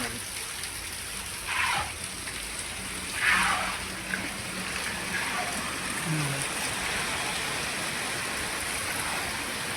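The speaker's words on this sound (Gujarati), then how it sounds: "સવાર 8 વાગ્યાનો એક ધારો વરસાદ ચાલુ છે" Steady heavy rain during village flooding with a constant hiss of water throughout, and a few brief voices and splashes in the background.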